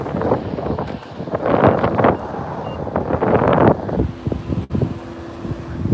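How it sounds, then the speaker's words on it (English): A strong south wind gusts at the Salton Sea, buffeting the microphone with loud, rushing swells that rise and fall, then eases to a quieter hiss with a faint steady tone. "we got a south wind, but there's something really strong"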